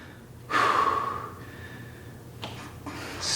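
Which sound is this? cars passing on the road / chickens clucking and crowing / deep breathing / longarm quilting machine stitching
deep breathing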